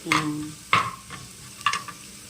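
Dried red chillies drop into a hot pan for thelagapindi kura, with three short, close bursts of sizzling and scraping over a quiet background.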